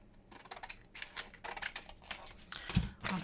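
Scissors cutting around leftover packaging for a junk journal, close crisp snips in quick irregular runs with paper and plastic crinkle between strokes.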